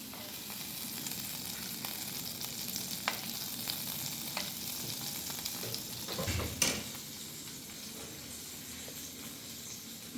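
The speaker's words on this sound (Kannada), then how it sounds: "ಹೆಂಚು ಕಾದಿದೆ. ಇವಾಗ ಸ್ವಲ್ಪ ಬೆಣ್ಣೆ ಹಾಕ್ಕೋಬೇಕು." Butter hisses and sizzles steadily on a hot griddle while a sweet corn masala snack is made, with occasional scraping and stirring sounds close by. Near the middle a louder burst of sizzle rises, and no one talks.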